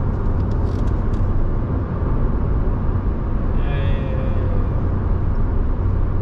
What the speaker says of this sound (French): La capacité de reprise de cette voiture, tout à fait banale encore une fois, est vraiment bonne.